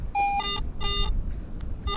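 At an old mining smelter site, a metal detector sounds repeated electronic tones, bright stacked beeps in short bursts with gaps, heard up close over faint outdoor background.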